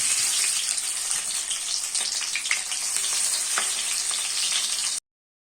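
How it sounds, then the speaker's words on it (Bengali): Fish pieces frying in hot oil, a batch of three for fish do peyaja, giving a loud, dense, continuous sizzle with crackling pops and no voices before it cuts off abruptly. "এখন সেম তেলেই আমি এখন মাছগুলো ভেজে নেব"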